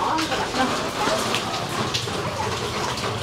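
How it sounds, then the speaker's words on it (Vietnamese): Rain falls steadily outdoors in Vietnam, a dense close hiss of drops spattering on surfaces, fairly soft and continuous for a few seconds with no voices over it. "Ôi mưa ướt hết trơn rồi."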